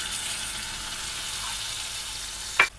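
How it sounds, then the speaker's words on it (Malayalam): Ginger fries in hot oil with a continuous bright crackle and sizzle, close and steady, ending in a sharp short clink. "ഇപ്പോൾ ഇഞ്ചി നല്ലതുപോലെ എല്ലാം ഒരുപോലെ മൂത്തിട്ടുണ്ട്. ഒരു കിലുകില ശബ്ദം കേട്ടോ"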